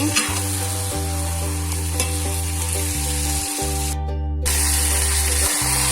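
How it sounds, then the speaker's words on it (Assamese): Oil sizzles steadily as duck meat is stirred and fried in a pan, with a constant hiss and occasional scraping, close and fairly loud. "এইখিনি ভালকৈ লৰাই ভাজি থাকিব।"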